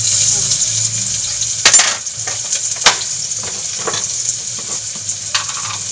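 Onions frying in a pan at home while breakfast is cooked, a steady close sizzle with occasional clinks and stirring scrapes of a utensil against the pan.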